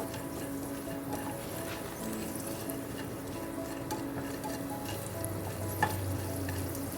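Plantain and squash cooking in a pan over a low flame, giving a soft, steady sizzle with faint stirring clicks and a low background hum.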